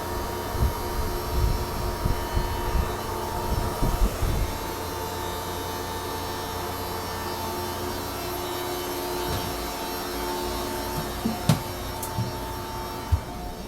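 A yacht's generator drones steadily with a constant tonal whine, joined by a few faint knocks and clicks, close and even in level.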